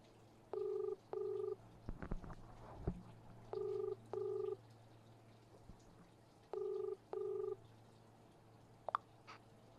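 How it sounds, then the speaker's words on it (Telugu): A phone rings in a repeated pattern of paired electronic tones, three sets spaced a few seconds apart, with faint handling noises in between. "కాల్ రింగ్ అవుతోంది"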